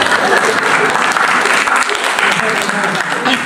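An audience in a church service applauds loudly and continuously, a dense close clapping that lasts several seconds with talk mixed in.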